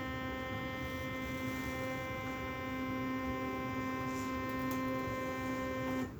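Steady electric whir of a linear actuator inching the carrier of a joystick-controlled wagon tippler model, a constant tonal hum holding level for several seconds before cutting off at the end.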